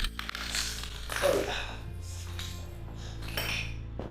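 Broken glass crunches and clinks underfoot as someone walks carefully through an abandoned research center, with scattered bright clinking hits over a steady low hum.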